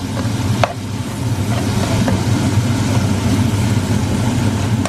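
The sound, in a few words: stirring garlic in a frying pan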